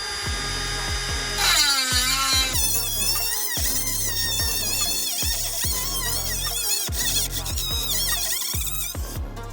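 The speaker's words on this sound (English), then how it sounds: "We're just going to try and cut them with the Dremel." A Dremel rotary tool cuts through rusty exhaust manifold bolts on a Ferrari 308, a loud close high-pitched whine that repeatedly dips and rises in pitch as it bites into the metal, heard alone without talk.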